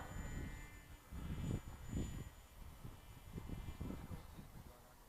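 A Ritewing Hardcore 38 RC plane coming in to land with its engine running, a faint droning hum with a thin whine and pulsing low rumbles that rise and fall as it passes, distant and quiet.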